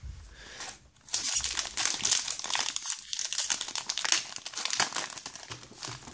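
Crinkly foil wrappers of Pokémon Vigueur Spectrale booster packs are torn open and crumpled up close, with continuous loud crackling and tearing throughout.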